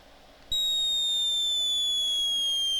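Artillery shot in the Commodore 64 game Artillery Duel: an abrupt electronic blast that jumps in loudness and holds as a steady synthetic noise with descending whistling tones.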